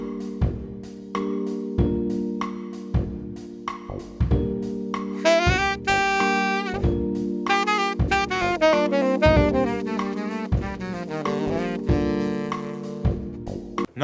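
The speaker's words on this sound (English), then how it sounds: "Incorporating some chromatic patterns with various minor scales might sound something like this." Solo line over a single chord mixing chromatic runs with minor-scale patterns, played alone above a steady sustained backing, with quick note flurries and a few clear accented hits.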